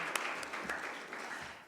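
A launch event audience gives the speakers a round of applause, a soft, distant patter of clapping hands held briefly at low level.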